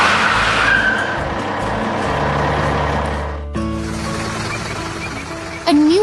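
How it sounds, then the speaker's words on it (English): Fully loaded dump truck pulls away through gates in a 3D animated construction scene: a loud, continuous engine drone that shifts abruptly midway, then rises in a sharp whine at the end, with no talking. "The dump truck is fully loaded now and heading out through the gates to clear the way."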